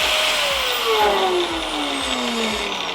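A Makita GA5030 angle grinder running without its nut winds down with a falling whine while a heavy rhythmic thumping vibration continues, close and loud.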